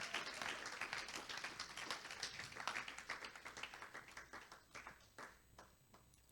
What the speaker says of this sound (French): Clap for the Lord Jesus Christ.